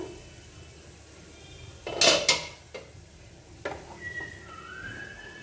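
A metal lid lifted off a pan of egg and pea curry gravy simmering on a medium gas flame, giving two close, bright clanks followed by lighter scrapes and clinks over a soft background hiss.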